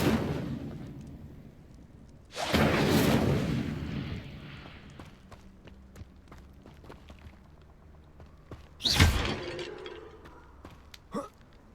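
Incendio fire spell cast in the game Hogwarts Legacy: a loud whooshing burst of flame that roars for about two seconds and fades, then a second sharp blast with a crackle, followed by a brief smaller hit.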